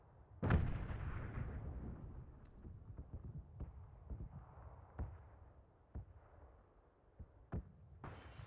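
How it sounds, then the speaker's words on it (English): Gunfire in the video game PUBG, distant shots cracking one at a time at irregular intervals, the first loud and close and the later ones fainter, over a low rumbling background. "They're shooting across the street."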